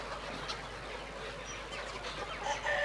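Three-month-old hens cluck steadily on a poultry farm, with a continuous murmur of fowl and a few clearer calls near the end, at moderate distance.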